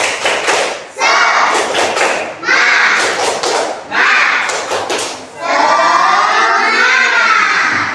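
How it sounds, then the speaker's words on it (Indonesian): A class of fourth-grade children doing a rhythmic spirit clap together, with loud bursts of hand claps and thumps in a set pattern, mixed with the children shouting and chanting in unison. "Tepuk semangat."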